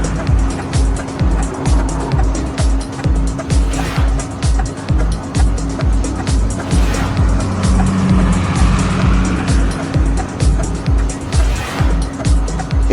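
Dense traffic of a group of cars on a road, heard from inside a moving vehicle, a steady loud engine and road roar with pulsing tire noise throughout.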